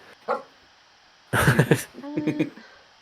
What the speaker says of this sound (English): my dog is like being a little annoying person